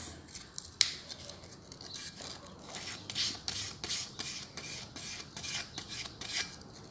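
Steady dry rasping strokes of fine sandpaper on a small hard plaster piece, repeating in short bursts, close up with no talking.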